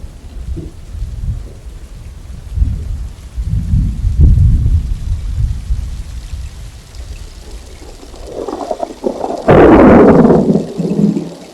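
Rain falls steadily while low thunder rumbles through, swelling in the middle and ending in a loud close crack and roll.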